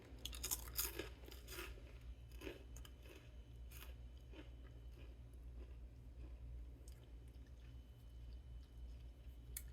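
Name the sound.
biting and chewing a crunchy cheese cracker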